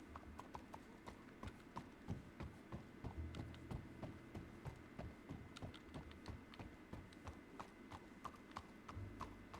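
A horse's hooves clip-clop at a steady walking pace in a ranch roleplay video game, the quiet rhythmic knocks continuing evenly throughout.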